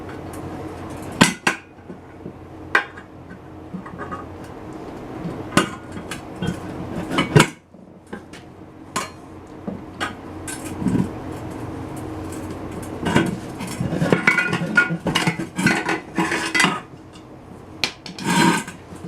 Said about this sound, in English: Now you're just going to start taking your screwdrivers, start prying like that.